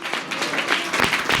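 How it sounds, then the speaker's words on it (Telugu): Brief applause from a church congregation clapping for the Lord, a moderately loud, dense patter of hands throughout. "just give big claps to the lord"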